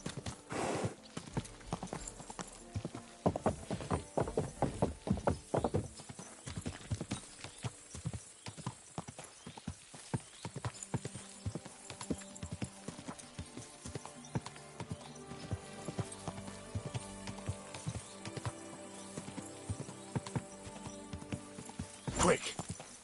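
Horse hooves clip-clopping on ground in Kingdom Come Deliverance 2, steady rhythmic close footfalls throughout, with occasional whinnies and speech underneath.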